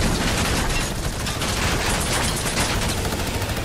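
Minigun fire in the aircraft combat game Air Royale: a loud, unbroken, dense roar of rapid shots that holds steady for the whole stretch, with no gaps between rounds.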